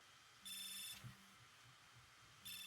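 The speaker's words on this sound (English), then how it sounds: "Now I'll give you an example of what the alarm looks like when it goes off." A Garmin Forerunner 265 smartwatch alarm beeps in two short bursts with a pause between, bright and clear, alongside a low buzzing hum from vibration.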